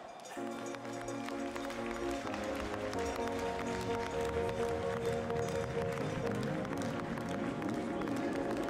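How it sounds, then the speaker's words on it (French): An audience at an Abondance cattle show claps steadily and loudly throughout, with a tonal background of music and crowd murmur beneath the sustained applause. "Je vais demander d'applaudir très fort."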